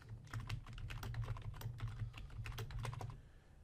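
Someone types a password on a computer keyboard in a quick run of crisp, close key clicks with slight pauses, alone without any voices.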